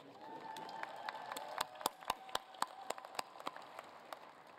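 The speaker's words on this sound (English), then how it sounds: "give yourselves a cheer" Graduates at a winter university commencement clap and cheer, a faint spread of applause with sharp, scattered claps standing out, heard from a distance in a large hall.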